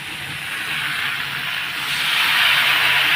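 Water poured into a hot pan of chillies, garlic, tomato and spices sets off a loud, steady hiss that builds slightly toward the end, close up with no speech.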